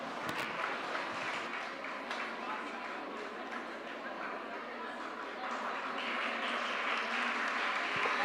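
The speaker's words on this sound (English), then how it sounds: "Please give a big round of applause for Godavari College of Nursing." Audience applause at an international nursing conference as nursing college students are welcomed onto the stage, a dense, moderately loud clapping that continues throughout and swells slightly toward the end, with some voices mixed in.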